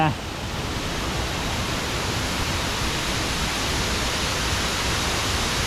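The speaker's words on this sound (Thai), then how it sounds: "น้ำตกที่สวยอีกหนึ่งครับ ของจังหวัดภูเก็ต" A continuous roar of falling water from Bang Pae waterfall in Phuket, Thailand fills the scene, steady and loud without pause.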